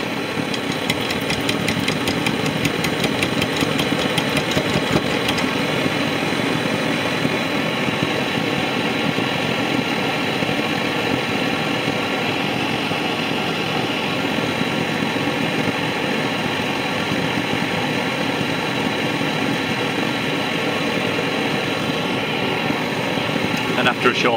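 Old paraffin blowlamp burning steadily after being pumped up, a continuous close roaring hiss that holds at an even level throughout without a break.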